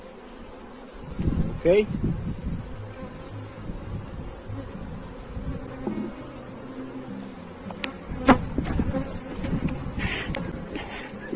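Bees hum and buzz around an opened beehive during a colony inspection, a continuous close drone with passing louder flybys, while a person briefly speaks.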